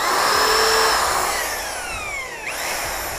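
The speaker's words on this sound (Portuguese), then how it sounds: "Já tá furando o forro." A high-pitched power drill whines steadily, its pitch sliding downward as it bores through a motorcycle helmet's chin area and liner to mount a camera, then briefly surges again near the end.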